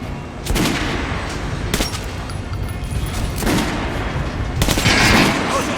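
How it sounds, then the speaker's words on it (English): Firearms shoot at a training dummy on a range in the game Metro Last Light Redux. Loud, close bursts of rapid gunfire come in several volleys over a constant dense background of noise. "Try shooting for the center of the regular dummy chest."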